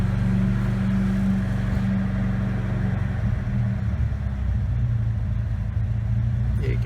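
1980 Lada 2101 Zhiguli engine idling close by, a steady low mechanical hum with an even, slightly uneven-pulsed rumble that holds throughout.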